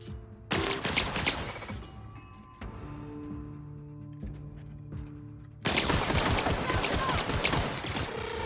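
Loud bursts of gunfire from The Outer Worlds video game, with sharp impacts and a sustained barrage of shots that drops back and then returns even louder and denser, with no talk over it.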